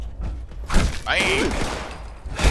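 Gunfire in the video game Fallout 76, a burst of several shots and thumps in a busy mid-length volley, fairly loud with game effects around it and no talk over it.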